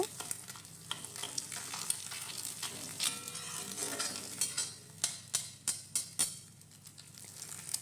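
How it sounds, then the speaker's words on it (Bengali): Beaten egg scrambles in hot oil in a kadai for egg chowmein, with a soft sizzle under repeated scrapes and clinks of a spatula stirring against the pan, fairly quiet. "ডিমটাকে খুব ভালো করে ঝুড়ি ভাজা করে নেব"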